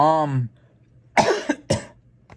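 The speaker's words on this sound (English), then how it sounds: "Forgive me. Cough." A voice trails off, then a couple of harsh, close coughs follow in quick succession.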